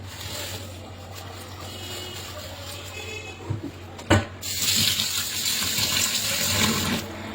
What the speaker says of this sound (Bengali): আগে রুই মাছটাকে ধুয়ে নেবো ধুয়ে রেখে দেবো